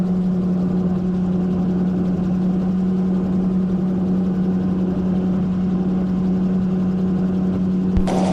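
A gyrocopter engine drones steadily in flight over the Lake District toward Kirkbride, a constant loud low hum with a strong tonal buzz and airy wind noise and no break, then a brief knock near the end.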